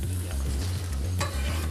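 Chopped onions and vegetables sautéing in a hot frying pan, a steady close sizzle with repeated stirring scrapes in a regular rhythm.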